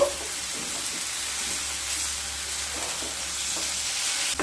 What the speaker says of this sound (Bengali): টমেটো দিয়ে মশলার সাথে খুব ভালো মতো মিশিয়ে নেব